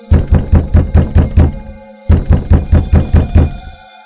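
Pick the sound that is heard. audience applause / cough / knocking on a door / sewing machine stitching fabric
knocking on a door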